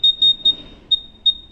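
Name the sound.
electronic detector beeping while adjusting its setting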